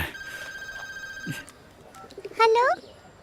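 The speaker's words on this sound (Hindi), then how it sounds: "देखो किसका फोन है।" A telephone rings in steady tones for over a second, followed by a brief warbling electronic chirp, with faint background noise throughout.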